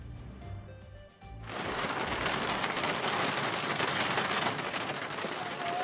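Heavy rain comes down on a student protest site in Ranchi where tarpaulins are being held up. A low hum gives way abruptly to a dense, steady, loud hiss of falling rain that carries on without talk.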